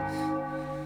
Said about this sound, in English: Okay, do bell. That's a good bell.